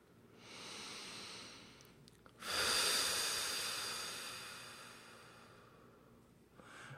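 Slow, deep breathing: one long airy inhale, a pause, then a louder drawn-out exhale that fades gradually, close to the microphone with no talk.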